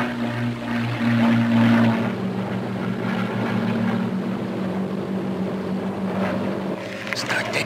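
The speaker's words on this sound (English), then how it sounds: "here comes the target plane now" A propeller target plane in a 1960s naval comedy drones overhead, a steady loud engine hum that slowly fades as it passes, with no talk heard.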